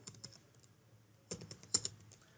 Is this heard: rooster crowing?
no